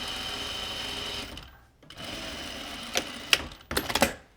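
A sewing machine stitches a sleeve seam through to the hem in a steady whirring run, pauses briefly, then resumes with a few sharp clicks and short bursts at the end.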